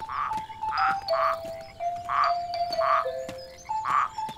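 Repeated bursty croaks from a bucket of frogs in an animated children's cartoon, close and fairly loud, pulsing in a steady rhythm with thin tonal whistles weaving between them.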